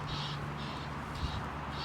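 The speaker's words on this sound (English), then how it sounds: "the geese making a noise in the fields there" Geese call in fields near Hougoumont farm, a run of faint rhythmic honks repeating at an even pace over a low steady background.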